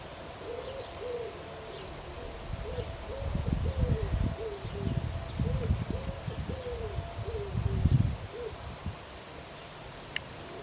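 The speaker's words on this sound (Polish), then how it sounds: "Już słychać przyleciały, przyleciały do naszego ogrodu już grzywacze." Soft, repeated cooing calls of wood pigeons at a moderate distance in a garden during morning feeding, a steady series of low hoots against outdoor background noise.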